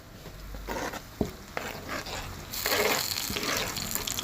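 Onion and tomato frying in a tagine for a kofta dish, with a steady close sizzle, a few utensil clinks and scrapes, and a louder hissing burst in the second half.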